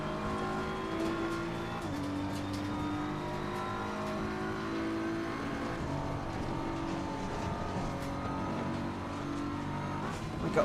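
Race cars on track in a racing video game, several engines droning and revving together with shifting tones as the cars battle closely, a steady, loud mechanical roar with no talk.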